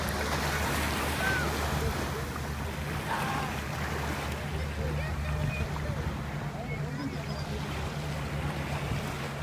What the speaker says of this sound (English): We're at North Beach, Playa Norte.